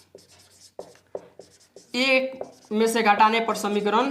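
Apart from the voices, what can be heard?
pen writing an equation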